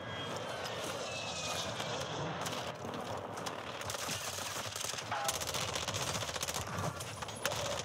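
Rapid SO14 rifle fire crackles through a Warzone match in dense, repeated bursts over steady game ambience and a droning engine, continuing through the whole stretch.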